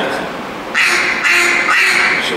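A voice imitates a mallard hen duck, giving a run of nasal quacks in three close bursts, loud and near.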